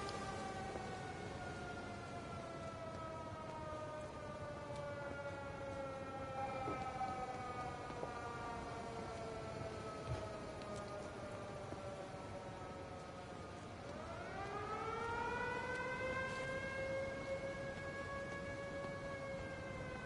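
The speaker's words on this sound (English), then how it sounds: "The air raid siren." An air raid siren wails in the video game Everybody's Gone to the Rapture, a long rising and falling tone that stays loud and steady, dips, then swells again near the end.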